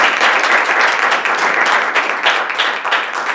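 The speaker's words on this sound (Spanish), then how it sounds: "Os pediría un aplauso" Audience applause at a business debate event, a loud, steady crackle of many people clapping together that holds strong and fades slightly toward the end, with no voices over it.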